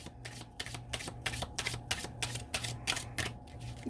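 Tarot cards are shuffled, flicked and tossed during a reading, giving a quick run of sharp papery snaps and riffles close by, with no talk.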